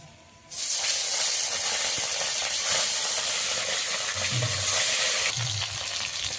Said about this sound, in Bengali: মাছ ভাজা হয়েছে, আরও আছে মাছ